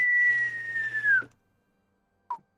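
A voice imitates the cartoony whistle of a falling bomb: one sustained, slowly descending whistle lasting just over a second, then silence and a brief faint chirp.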